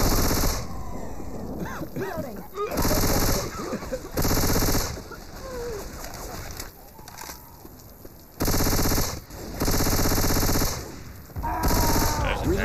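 Bursts of automatic gunfire from the Left 4 Dead 2 video game, Hard Rain campaign, come in repeated loud volleys broken by short pauses.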